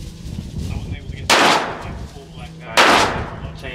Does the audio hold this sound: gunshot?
yes